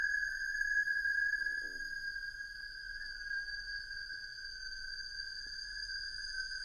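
Filtered granular synthesis texture with a clear, steady pitch: sustained bright tonal bands hold throughout at moderate level, with a faint scintillating grain flickering underneath.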